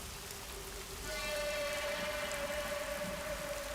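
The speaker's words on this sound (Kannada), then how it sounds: "ಮಲೆನಾಡಲ್ಲಿ ಮಳೆ ಶುರು ಆದರೆ ನಿಲ್ಲೋ ಮಾತೇ ಇಲ್ಲ" Heavy monsoon rain pours down steadily in a hill region, a dense continuous hiss that swells louder after the first second, with a faint tonal hum running underneath.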